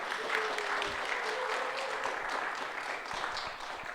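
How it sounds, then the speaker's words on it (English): A live audience applauds Karen Sadler, the pastoral lead, at a community event, with steady, dense clapping filling the room at an even level throughout, tapering slightly near the end. "So can we give her a massive round of applause?"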